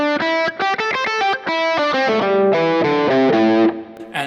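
Distorted electric guitar played too fast, so the rhythm stumbles. Choppy bursts of notes with uneven gaps give way to a blurred run, loud and close, with no talking.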